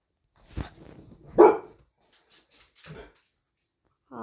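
Pet dog close by giving a few short, separate barks and yips with soft whimpering sounds between them, in an otherwise quiet indoor room.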